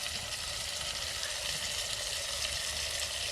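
Tomato, green chili, ginger and coriander crushed together and tossed into hot oil for khichdi, giving a steady, close broadband sizzle that holds level with no pauses and no talk over it.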